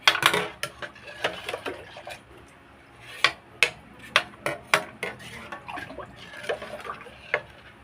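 Utensil clinking and scraping against a large pot while fishball sauce is stirred, irregular sharp clanks repeating every half second or so, fairly close with quiet kitchen background and no talk.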